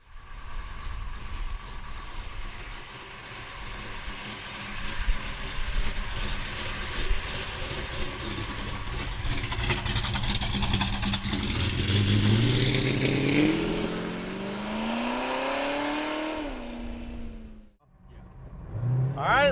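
A 1970 Dodge Charger R/T V8 runs steadily at a rumbling idle inside a shop, then revs up in rising sweeps before cutting off abruptly and restarting, loud and close.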